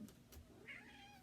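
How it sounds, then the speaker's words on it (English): A house cat gives a single short meow indoors, quiet and slightly distant, with a few soft bumps just before it. "That's my cat."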